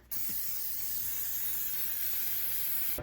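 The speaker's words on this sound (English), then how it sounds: "next I'm gonna start by spraying my pan" A steady, continuous hiss of an aerosol cooking spray lasting nearly three seconds, close and fairly loud, starting and stopping abruptly.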